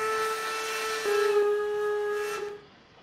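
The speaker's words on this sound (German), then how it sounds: "Ein kleiner Pfiff." A steam whistle from a class 50 locomotive in the train simulator Trainz 22 gives one steady, sustained tone of about two and a half seconds, loud and close, with a slight swell midway before it cuts off.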